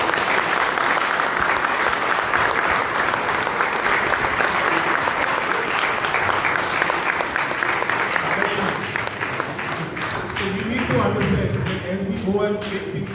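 An audience at a prize distribution function for a cooking competition claps loudly and continuously, a dense sustained wash of applause with voices rising near the end.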